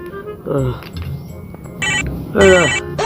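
A telephone rings while someone calls the doctor, with repeated bright electronic ring bursts that grow louder toward the end, mixed with voices and tonal sounds.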